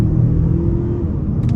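A 2024 Mazda CX-5 Turbo with its turbocharged four-cylinder in sport mode pulls away hard from a standstill, giving a brief, loud low engine rumble heard from inside the cabin.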